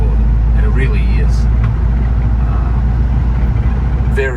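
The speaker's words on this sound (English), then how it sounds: "Very, very strong engine" Steady low rumble of a 1991 Isuzu Big Horn Irmscher R Coupe's 4JBT turbo diesel running nearby, a constant idle drone under someone talking.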